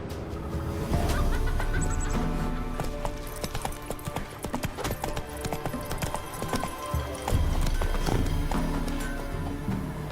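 Horse hooves clip-clop in rapid rhythmic beats in Witcher 3, riding over a game soundtrack, with a brief snort and faint voices.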